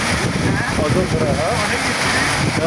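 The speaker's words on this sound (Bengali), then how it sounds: "বৃষ্টি একদম সুন্দর" Steady rain pours onto a river boat carrying char dwellers as it moves at speed, a dense, continuous hiss of drops with watery wash and a voice speaking over it.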